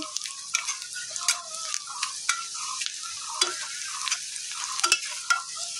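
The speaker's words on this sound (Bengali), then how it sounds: "পেঁয়াজটাকে ভালো করে ভেজে নিচ্ছি।" Onions frying in hot oil in a pan and being stirred, giving a steady bright sizzle with repeated scraping taps of the spoon, close up and uninterrupted by speech.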